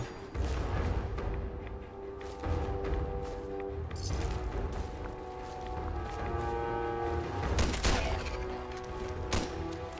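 Cannon fire and combat in the video game Fallout 4: Far Harbor come as repeated heavy booms over a dense, loud, rumbling din, close and sustained for the whole stretch.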